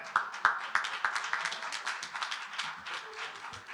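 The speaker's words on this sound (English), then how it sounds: "Let's give them one more round of applause" Audience at a Saturday morning rally applauds steadily, a dense wash of many hands with a few sharper individual claps standing out, moderately loud and continuous with no talk over it.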